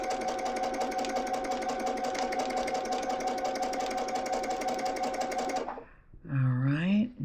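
A sewing machine runs steadily, stitching scant quarter-inch quilt seams for a pinwheel sampler block. It keeps up a continuous, close mechanical whir for several seconds, then stops abruptly, and a voice begins speaking.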